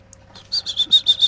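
A man in a studio imitates bird calls with his voice as a special effect, giving six quick, bright chirps in an even rhythm, close and clear over near silence.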